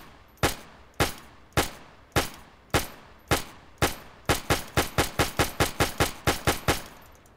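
M1919 .30 caliber machine gun firing in a video game, sharp loud single shots spaced about half a second apart, then a quicker rhythmic string of rapid shots, each with a short decaying tail.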